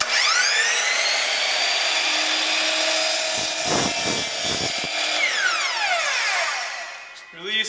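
Miter saw making a 15-degree miter cut through a board in a school technology workshop: a steady high motor whine runs throughout, with the blade biting the wood midway and then spinning down.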